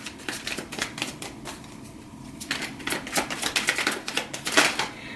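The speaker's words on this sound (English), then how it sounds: "So let's keep on getting the cards out on the spread for you guys." Tarot cards are dealt and laid out in a spread, producing quick, crisp flicks and snaps in uneven clusters close by, with a short pause midway.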